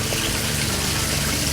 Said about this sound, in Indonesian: Ini kita siram, kita banjiri seluruh kebun biar pupuknya itu larut.